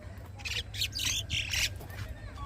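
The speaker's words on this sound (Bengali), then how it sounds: "আর এই যে শালিক পাখিটা আপনারা দেখতে পাচ্ছেন এটা বাচ্চা থেকে আমার পোষা শালিক পাখি" A pet myna kept since it was a chick, on a rooftop garden, gives a run of harsh, close squawking calls in several bursts.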